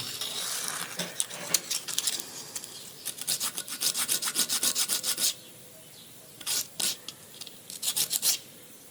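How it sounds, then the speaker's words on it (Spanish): Rapid scraping strokes of 60-grit sandpaper rubbing against small alabaster beads, in bursts with short pauses between, close and crisp. "Vamos a continuar lijándolas todas con el 60."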